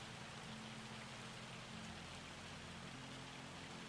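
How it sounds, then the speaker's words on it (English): Hail falls during a Farming Simulator 25 game session, a faint, steady, dense patter of small impacts with no pauses or variation throughout. "Like the sound of the hail and everything."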